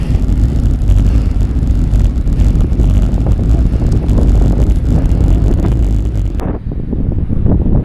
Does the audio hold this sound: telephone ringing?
no